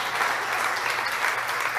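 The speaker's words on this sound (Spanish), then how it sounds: "denle ese aplauso fuerte al Señor" A church congregation applauds in a brief, steady burst of dense clapping, fairly close and even throughout.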